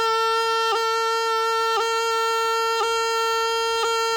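A bagpipe holds a steady, loud high A while a G grace note strikes it four times at an even, moderate pace.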